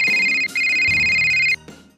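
A telephone ringtone sound effect rings at a news desk. It plays as a loud, sustained electronic tone in two bursts, with a brief gap between them, and then cuts off.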